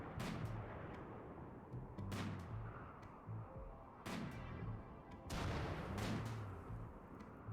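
Gunfire in the video game RimWorld, with repeated booming shots and bursts over a steady background rumble, fairly faint and with no talking.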